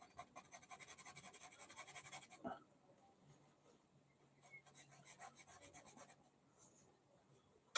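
A dog scratches at a door to be let in, a rapid rhythmic rasping of claws on wood in bursts, faint and somewhat distant, with a brief knock between rounds.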